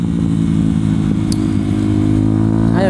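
Motorcycle engine revving at idle, a 125cc bike sitting beside a Kawasaki Z800 with a full Akrapovič exhaust, a steady loud low rumble with throttle blips, close by with no talking.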